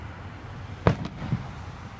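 Fireworks going off at a distance, one sharp bang followed by a couple of fainter pops within about a second, over low background rumble.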